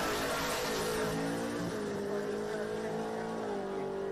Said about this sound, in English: That's a quick car right there